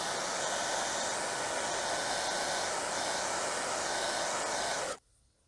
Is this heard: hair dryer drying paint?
yes